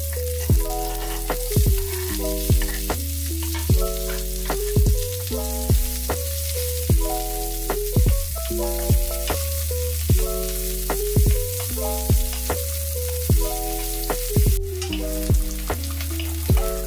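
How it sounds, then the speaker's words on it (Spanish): Sliced onion fries in a pan with a continuous loud sizzling hiss for the whole stretch, under rhythmic background music. "Ahora voy a rebanar en forma de pluma la mitad de la cebolla que tenía y la vamos a poner a sofreír."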